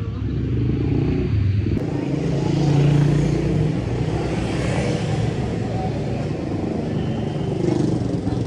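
A motorcycle carrying two riders strains under the heavy load, giving a steady low engine rumble with road and wind noise and no speech.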